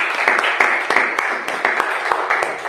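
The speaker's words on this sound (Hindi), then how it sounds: "हम जोरदार तालियों से वेलकम करते हैं" Loud applause from a congregation welcoming someone at a church prayer service, dense sustained clapping with sharp individual claps throughout.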